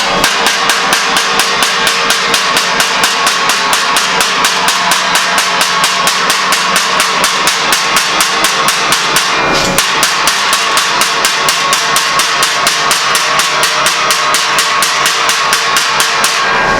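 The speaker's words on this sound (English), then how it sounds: "I've got a chisel here. I'm just forming it by hand here as I go." A chisel is hammered along 18 gauge sheet metal to form a 90-degree bend for a Model A hot rod shop truck roof. The sharp metallic strikes are close and loud, coming in a fast, steady rhythm throughout with no talking.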